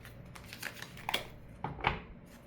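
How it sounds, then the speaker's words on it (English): Cards being shuffled, heard as two short riffling bursts of flicking paper that are close and moderately quiet, with no talking. "Let me shuffle real quick."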